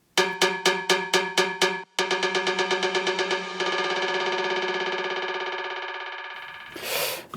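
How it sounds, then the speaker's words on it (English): Sampled cowbell in a house music production, struck in a steady rhythm that speeds into a rapid roll, tails off into a fading sustained ring, then a brief noisy burst near the end; clear and prominent, no voices. "the cowbell, which I just sampled from the one that we used throughout the track"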